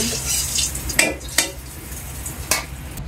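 Chopped onions dropped into oil in a pan, a continuous frying hiss with a few sharp clatters of a spatula against the pan, close and fairly loud, with no one talking.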